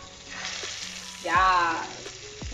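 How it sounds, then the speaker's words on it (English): Meatballs sizzle and crackle steadily in a hot frying pan, with a louder surge of frying partway through and a few soft clunks. "I'm loving the sizzle."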